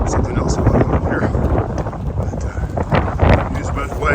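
Strong wind on an exposed Appalachian Trail ridge buffets the microphone in loud, rumbling gusts that rise and fall over a few seconds.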